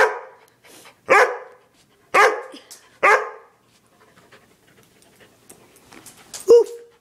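A Weimardoodle dog lets out a few loud, spaced barks and short huffs up close, followed by quieter panting and a final high whine.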